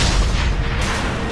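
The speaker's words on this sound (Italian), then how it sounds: "Vabbè, ci siamo presi in faccia proprio l'esplosione." An explosion in the video game Mass Effect 2, a loud sustained roaring boom with heavy low rumble that fills the whole moment without fading.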